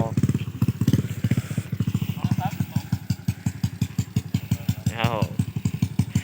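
A motorcycle fitted with a loud aftermarket exhaust revs and pulls away in second gear, its rapid throbbing pulses loud and close throughout, with someone talking over it.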